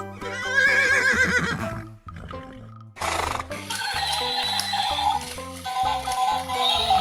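A toy horse on display gives a loud electronic neigh and whinny with harmonic whinnying calls, set over a steady tonal toy melody that runs throughout.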